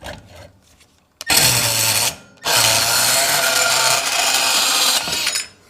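A power cutting tool saws through a part from a Seadoo 4tec engine in two loud, close bursts, a short one and then a longer steady one, separated by a brief pause.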